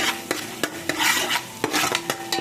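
Ginger garlic paste sautés in a pan for a biryani while a utensil stirs it, with sharp regular scraping clicks roughly every quarter second over a bright, continuous sizzle, close and fairly loud, no voices.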